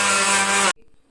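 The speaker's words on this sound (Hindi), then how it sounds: "और इसको हम ब्लेंड कर लेंगे।" A kitchen blender whips fresh cream for homemade butter with a loud, steady whirring roar that runs for under a second, then cuts off abruptly, leaving a faint rattle.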